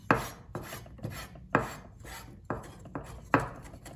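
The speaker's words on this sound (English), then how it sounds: "We'll cut just a little bit of parsley." A knife chops a little parsley on a cutting board in steady, close strokes, about seven crisp thuds with brief scraping between them, no talk.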